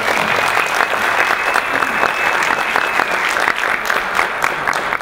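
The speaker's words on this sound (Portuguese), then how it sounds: "eu queria pedir uma salva de palmas" An audience breaks into sustained applause, dense clapping from a large crowd that holds at a loud, steady level for several seconds without pause.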